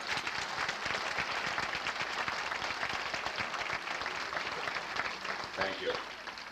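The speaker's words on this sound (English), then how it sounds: "If you could give them a round of applause for their year." An audience gives sustained applause for the East Brunswick football team at a 1983 gathering, dense even clapping filling the whole stretch with faint voices underneath.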